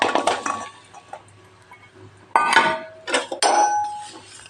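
Dates are stirred in homemade ghee in a pot on a gas stove, with a metal spoon clanking and scraping against the pan in loud, irregular bursts separated by short pauses.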